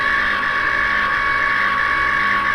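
A Cricut Explore Air 2 cutting machine whirs steadily as its mechanism gets ready, a loud continuous motorised drone with no pauses and no talk.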